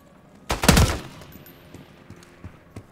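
A sudden burst of rapid automatic gunfire in Call of Duty Black Ops 6, loud and close for about half a second, followed by scattered fainter shots.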